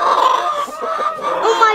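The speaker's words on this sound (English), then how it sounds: "Oh my God! Rooster." A farm rooster crows and clucks loudly and close by in a short, harsh burst, heard alone.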